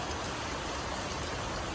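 Heavy tropical downpour in Batam, a dense, even hiss of rain pounding surfaces, steady and loud throughout with no voices.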